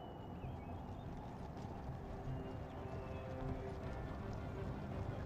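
Cavalry horses gallop across a battlefield in the video game Empire Total War, a faint steady drum of many hooves under a low ambient battle din.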